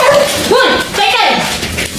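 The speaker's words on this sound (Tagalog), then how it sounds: "Ang laki ng aso." A large dog outdoors at night gives loud, close barks and yelping whines in quick succession, with people's voices mixed in.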